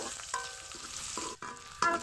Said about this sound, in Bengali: এখন শুটকি আর রসুন ভেজে নিব